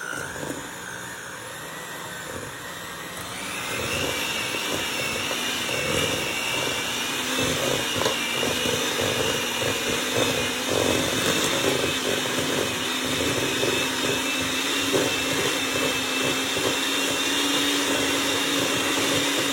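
An electric mixer creaming strawberry birthday cake batter whirs into action after a few seconds, then runs loud and steady close by, its motor droning without pause.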